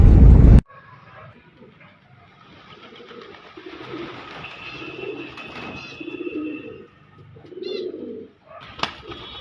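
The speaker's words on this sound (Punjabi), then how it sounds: "ਇੱਕ ਕਬੂਤਰ ਉੜ ਕੇ ਆਏ ਆ ਸਾਡੇ ਤੋਂ ਪਹਿਲਾਂ ਪਹੁੰਚ ਗਏ" Racing pigeons, expensive prized birds kept in a Punjabi village loft, coo in soft, rolling, repeated calls close by. A brief loud noise comes at the start, and faint background voices and a little wing movement are heard.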